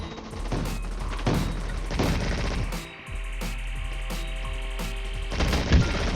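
Rapid bursts of gunfire in the Roblox game Fight Gun crackle in repeated volleys over a steady low background hum, loud and close.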